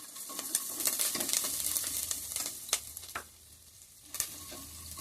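Ingredients for coconut pulao fry in a pan over low heat, a close, continuous sizzle with repeated scraping and stirring strokes and a sharp clack or two from the utensil.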